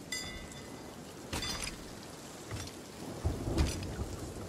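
Rain and thunder in the Sea of Thieves pirate game: a steady soft patter of rain with several separate rumbling thunder cracks, a louder deep roll near the end, and no speech over it.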